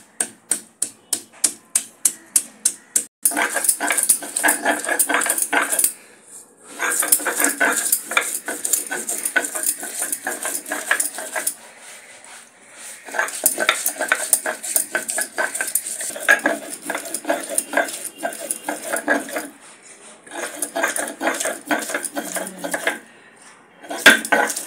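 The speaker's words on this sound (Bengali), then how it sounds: "আর এই এতটা আদা আমি বেটে নিচ্ছি।" Raw garlic and ginger are ground into a paste with a quick run of rhythmic knocks at first, then continuous scraping and grinding strokes broken by short pauses, close and fairly loud.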